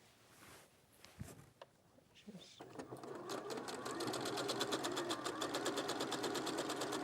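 A sewing machine stitching quilt squares together with a quarter-inch seam for a Kaffe Fassett floral maze quilt, starting after some handling noise and then running at a fast, steady, even rhythm close by.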